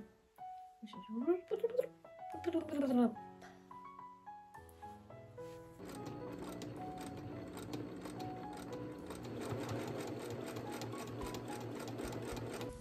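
A domestic sewing machine stitches the side seam of a quilted jacket, starting with short bursts and stops, then running steadily for several seconds, close and clear with no talk over it.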